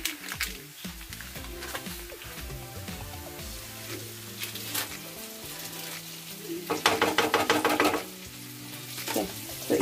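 Butter melting and sizzling in a pan, cooking for garlic mushrooms, a steady close frying crackle with occasional stirring scrapes and a louder burst of spatter near the end.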